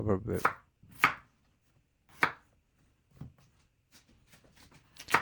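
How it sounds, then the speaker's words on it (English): A knife slices through a large potato on a cutting board in about six separate, crisp chops, spaced irregularly with quiet gaps between them, close and clear in a home kitchen. "Let's cut the potatoes."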